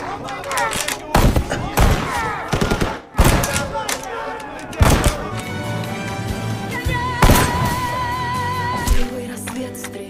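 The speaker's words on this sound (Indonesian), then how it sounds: "Dengan tembakan jitunya, Mila membunuh pasukan musuh tanpa ampun" Sharp sniper rifle shots crack out one at a time at irregular intervals amid a war film soundtrack, with music and voices in the background.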